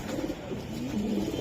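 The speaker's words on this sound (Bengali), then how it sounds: "এই যে বাপি ভাই, উফ দুইটা কবুতর মারাত্মক।" A racing pigeon coos softly and steadily at close range, a low throaty warble that runs for a moment with no talking.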